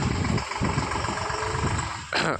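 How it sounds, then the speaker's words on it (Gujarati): A tractor engine idles nearby at a road construction site with a low rumble throughout, and a brief rise in higher-pitched noise near the end. "તો મિત્રો બીજું ટ્રેક્ટર આવી ગયું છે,"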